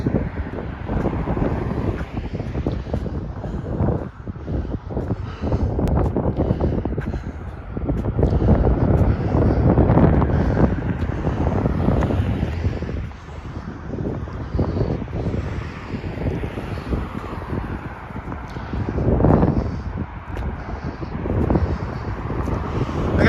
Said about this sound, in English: it's really breezy